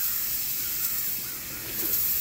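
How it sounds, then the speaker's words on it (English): Steady hiss of steam from a Donkin steam steering engine, continuous and fairly loud, holding constant with only slight swells throughout. "But that is a steering engine, quite a nice one, from Donkin"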